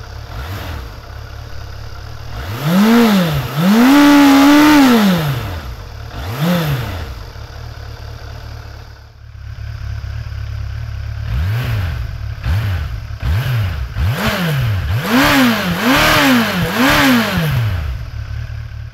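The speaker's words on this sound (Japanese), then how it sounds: "エンジンをかけます。" A motorcycle engine cranks and fires up close by, then is revved repeatedly, with pitch rising and falling in a series of throttle blips over a steady idle.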